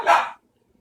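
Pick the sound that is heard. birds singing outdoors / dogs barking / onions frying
dogs barking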